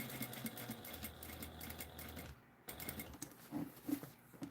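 A home sewing machine runs at night in bursts, its close mechanical whir and rapid needle clatter pausing briefly midway before starting again.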